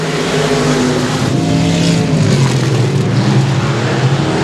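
Race cars roaring off the start at Sabine Speedway, a dense, loud wall of engine noise that holds steady and swells slightly as the field gets underway.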